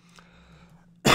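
A single sharp, loud cough bursts out at the very end after a quiet stretch with a low hum and a faint voice.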